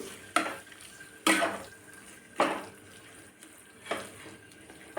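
Spices with Kashmiri chili powder sautéing in a pan for a quick cheese pasta: a soft background sizzle broken by four or five rhythmic scraping stirs of a spoon against the pan, close and fairly quiet.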